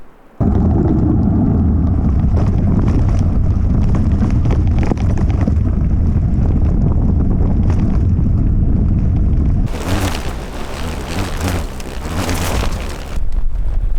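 Strong wind roars across a bikepacking camp on the Arizona Trail, battering the microphone with loud, continuous low rumbling and buffeting, then turning into harsher broadband gusts near the end.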